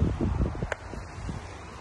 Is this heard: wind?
yes